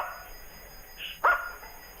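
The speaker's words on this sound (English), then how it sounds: "My dogs are taking over this show." A dog gives a single short, sharp bark at moderate distance, preceded by a brief higher whine, against a quiet background hum.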